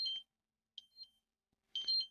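Short electronic timer alarm beeps sound in a few quiet bursts, one brief chirp, a double beep, then a longer beeping burst at the end, fairly faint with no talking.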